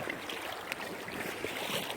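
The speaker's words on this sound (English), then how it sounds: "I don't know if it's just the sound of the rushing water" Rushing water along a rocky shore, a faint continuous broadband wash heard alone without talk.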